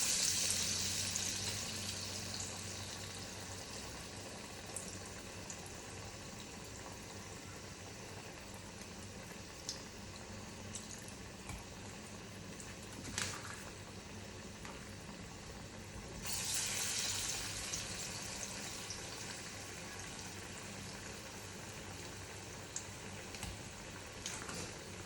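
Vada batter frying in hot oil in a home kitchen for a traditional Tamil full meal, a steady low sizzling bubble throughout with a brief brighter hiss partway, no talk.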